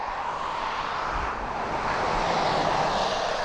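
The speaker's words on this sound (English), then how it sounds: "That noise then, that was a bus." A number 69 bus passes near Donington Park, a broad, steady engine rumble that holds at a constant level and swells slightly toward the end, with no voices over it.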